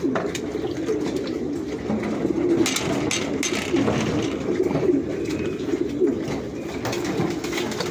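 Many pigeons coo continuously inside a crowded pigeon loft, their low overlapping burbling calls forming a dense steady chorus with occasional wing flutters and faint background noise.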